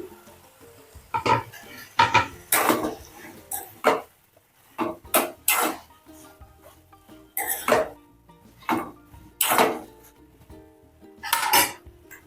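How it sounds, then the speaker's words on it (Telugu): Tomatoes and green chillies cooking in oil in a pan, heard as repeated metallic clinks and scraping stirs of a utensil against the pan, close and fairly loud, in uneven bursts. "టమాటాలని మనం ఆయిల్లో ఉడకబెట్టాలండి ఒక ఫైవ్ మినిట్స్ టైం పడుతుంది వాటిలో పచ్చిమిర్చి కూడా వేసుకోవాలి"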